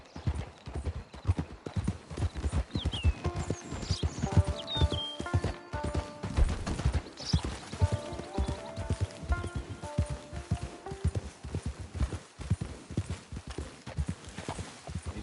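Horse hooves clip-clop steadily at a walking pace in a video game, close and rhythmic throughout, with occasional whinnies and faint background game tones.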